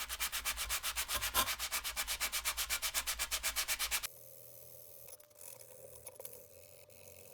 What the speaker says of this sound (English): I'm going to be super careful just giving this a very gentle cleaning with isopropyl alcohol.